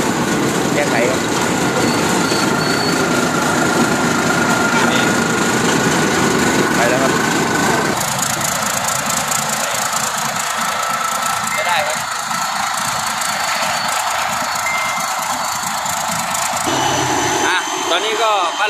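A modified car drives over a bridge with its engine's turbo boost heard as a steady, loud roar and high whine that continues without a break, dropping to a lighter tone partway through.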